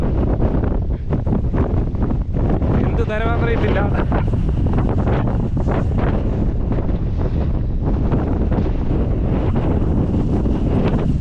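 Strong, steady wind on a hilltop roars and buffets the microphone throughout, with a voice speaking briefly under the gusts.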